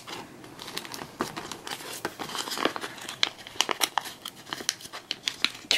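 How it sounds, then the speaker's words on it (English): A sticker is peeled off one-handed with a run of close crinkling, crackling tears, sparse at first and then growing into quicker sharp bursts toward the end, with no talking. "Trying to take a sticker off with one hand."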